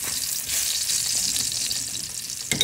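Garlic browning in a hot pan for a coconut-milk vegetable stew, a dense, close, continuous sizzle and crackle filling the whole stretch, with a louder burst of spattering at the very end and no talk.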